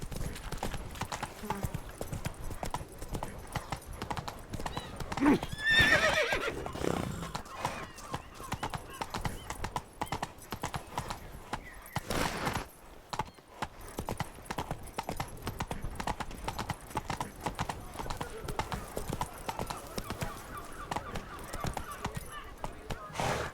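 Roach, the horse in The Witcher 3, gallops with steady, continuous clip-clop hoofbeats throughout and lets out a brief whinny partway through, while someone speaks over the running hooves.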